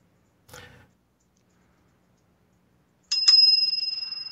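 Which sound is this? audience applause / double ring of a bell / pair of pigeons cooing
double ring of a bell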